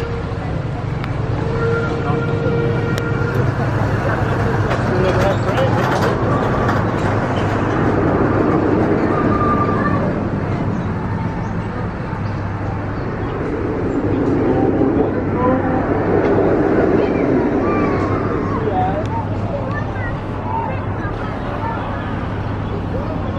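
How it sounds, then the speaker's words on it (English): Apollo's Chariot roller coaster train making an empty test run at Busch Gardens Williamsburg, a steady distant rumble of rolling wheels that swells and fades over a busy park background, with people talking nearby. "Look, there's nobody on the Apollo's Chariot train."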